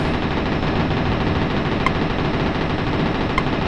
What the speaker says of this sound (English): What the heck is shooting at me?